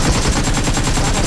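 Rapid automatic gunfire in a shooter game, a dense, loud burst of closely spaced shots rattling without pause.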